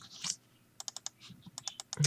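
Computer keyboard typing during a League of Legends match, a few close, light clicks followed by a quick run of evenly spaced keystrokes, with faint game sounds in the background.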